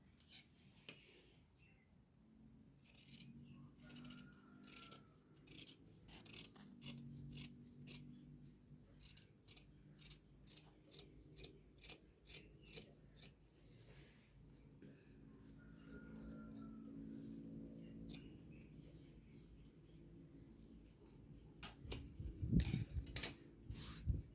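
Scissors snip through blouse fabric in a steady series of short cuts, with a quieter stretch before a louder clatter near the end. No one speaks.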